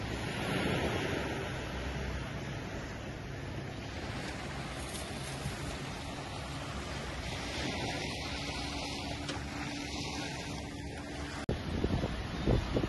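Sea waves wash steadily where a river meets the sea near a beach, a broad continuous rushing surf mixed with wind noise on the microphone, fairly even throughout with a brief bump near the end, and no voices.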